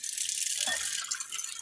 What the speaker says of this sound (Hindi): उसमें पानी डाल लेंगे।